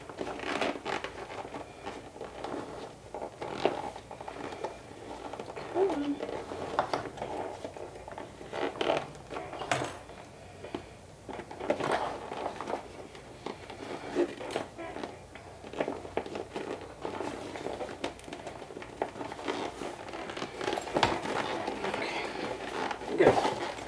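A sewing machine runs stitching bag seams, with soft irregular mechanical clicking and whirring in bursts and short pauses, fairly quiet and close.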